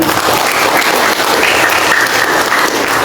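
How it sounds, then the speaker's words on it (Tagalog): Steady applause from a sizable congregation at a church Sunday service, a dense continuous patter of clapping that holds at an even level throughout. "Wala bang palakpak kay Lord?"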